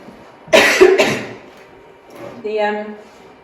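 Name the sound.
cough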